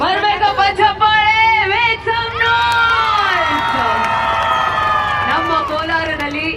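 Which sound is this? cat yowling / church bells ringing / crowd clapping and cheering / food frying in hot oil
crowd clapping and cheering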